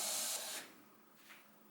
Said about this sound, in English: There is steam coming out of the pop-up valve, which is normal.